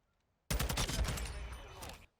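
TAQ 56 rifle in the Call of Duty video game firing one sustained rapid burst of about a second and a half, loud and close, after a moment of near silence.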